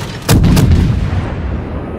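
A destroyer blows up in the naval video game World of Warships: a sharp, heavy blast with a second quick report, then a booming decay that fades over about a second and a half.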